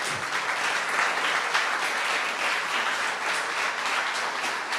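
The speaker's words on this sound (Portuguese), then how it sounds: "Dê uma salva de palmas para o Senhor Jesus." A crowd claps in sustained applause at a church service, a dense, even wash of hand claps with no talking.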